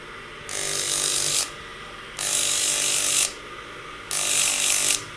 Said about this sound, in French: Donc nous avons un tour d'émeurisage avec de l'émeri fin